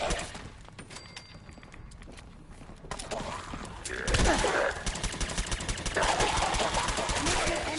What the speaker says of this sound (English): Did you see how many shots I put into him?